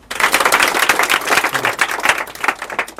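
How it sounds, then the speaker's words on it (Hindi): A classroom of students claps together in a quick, continuous burst of applause lasting a few seconds, loud and close, with no talking over it. "मारो ताली एक बार।"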